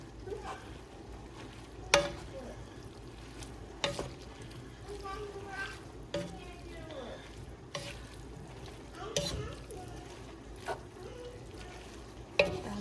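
Food sizzles quietly in a pan while a utensil stirs, giving soft scrapes and a sharper knock every couple of seconds.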